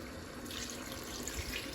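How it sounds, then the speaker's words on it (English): Water pours into a pot of okra soup with cowleg, a faint steady splashing stream running continuously at low level. "I'm going to add water to this, and then our soup is going to start taking shape from here"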